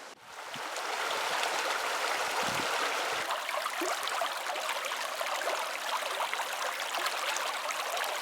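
The Unduksa river flows into a small bay near the White Sea, giving a continuous rushing and babbling of water that is fairly close and holds steady throughout, with no voices.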